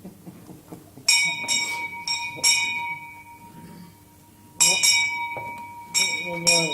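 A doorbell chimes in clear, ringing bursts several times, each tone decaying before the next, with voices talking quietly in the gaps.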